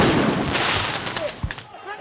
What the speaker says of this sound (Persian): و شلیک گاز اشکاور و گاز فلفل